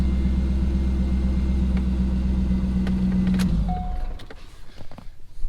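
A Corvette engine idles with a steady low rumble, then cuts off abruptly, leaving faint clicks and quiet ticking afterward.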